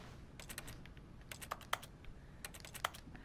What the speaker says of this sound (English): Why does it always sound like a keyboard